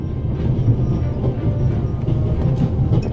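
Train interior ambience from The Raven Remastered video game: a steady low rumble of a moving railway carriage, with a continuous hum and faint rattling throughout, fairly loud and without speech.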